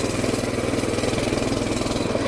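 A small mini bike engine fitted with studded tires runs loud and close in the snow, a steady buzzing drone that holds at high revs for the whole stretch with no talking.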